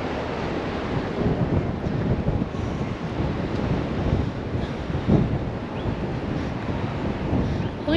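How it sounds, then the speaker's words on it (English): Strong outdoor wind buffets the microphone in Amarillo, Texas, in winter, producing continuous loud rumbling roar with occasional heavier gusts throughout. "Oh, it's super windy here."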